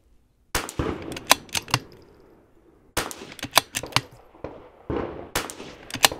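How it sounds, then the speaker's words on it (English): Rifle shots from a Vudoo V-22 rifle on a shooting range, sharp cracks fired in quick rhythmic strings with short pauses between bursts, each followed by brief rumbling echo. "We're going to shoot."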